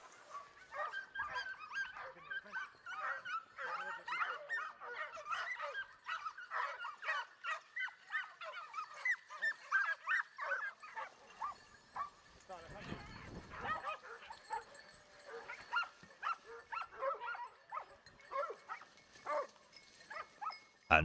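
Hunting dogs bay and yelp repeatedly at wild boar during a hunt, with rapid barks and whimpers at moderate distance and a brief rumbling scuffle midway, under a narrator's voice.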